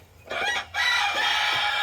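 Chickens inside a chicken coop give loud, close clucks and squawks in a dense burst, one raspy call running into the next.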